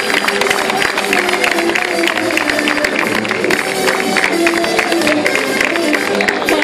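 Applause from a crowd at a neighbourhood tribute to cantinas and bars in Barrial, Gáldar, in 2024: loud, dense, steady clapping that fills the whole stretch, with music-like tones and crowd noise mixed in.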